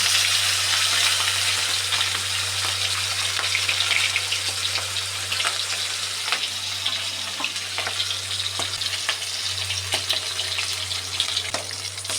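Fish frying in a generous amount of oil in a pan, producing a steady close sizzle with scattered sharp pops and spatters and a constant low hum beneath, with no voices.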